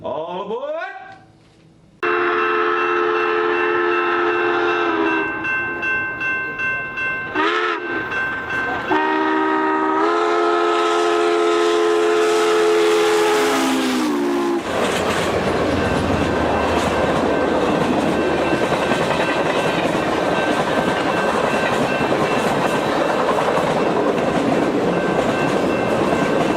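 Train passing with horn blasts, starting with rising tones, then sustained horn chords and a long run of rolling wheel clatter and rumble, loud and close.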